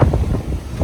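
Strong wind buffets the microphone in heavy, uneven gusts at an abandoned resort, a low roaring rumble with no voices.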